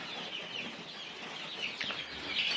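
Chicks peep and cheep continuously in a chick house with cages and brooders, a dense, steady chorus of small birds close by without pause.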